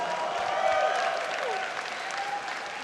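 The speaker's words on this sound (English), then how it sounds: "applause" Steady applause from a crowd at a StarCraft match, dense clapping that holds throughout and tapers slightly toward the end.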